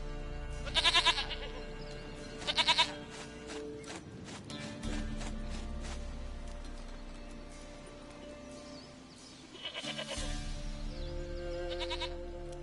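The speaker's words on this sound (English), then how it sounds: "Goat of mine, dearest, sweetest goat." A goat bleats in The Witcher video game, with several short, wavering bleats that come in two quick bursts and then again later, over continuous game ambience and soft hoof-like clopping.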